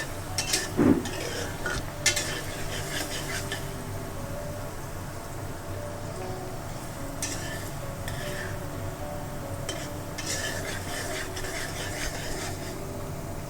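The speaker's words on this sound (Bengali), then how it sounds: "পেঁয়াজটাকে আমরা গোল্ডেন করব না, হালকা হালকা ভেজে নেব।" Onions frying gently in a pan over a medium flame, a soft continuous sizzle with occasional scrapes and clinks of a utensil stirring against the pan, close but quiet, with no speech.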